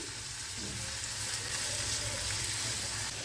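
Chopped onions and spring onion greens fry in a pan for a vegetable thukpa, giving a steady, close hiss of sizzling oil with a light stir.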